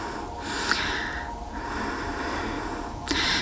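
Deep, slow breaths drawn in and pushed out in a resting yoga pose with the forehead on a mat, three loud breathy bursts spread across a steady close, hissy background.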